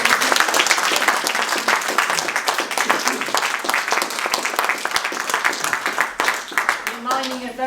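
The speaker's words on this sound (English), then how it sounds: "Let's have another round of applause." Sustained applause from a conference audience in Sheffield fills the room steadily, dense clapping that holds loud throughout before thinning near the end as a voice starts to speak over it.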